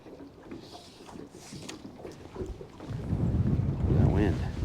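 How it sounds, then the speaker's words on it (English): Wind buffeting the microphone while fishing from a boat on open water, a gusty low roar that swells louder toward the end, with faint knocks and movement around the boat. "That wind."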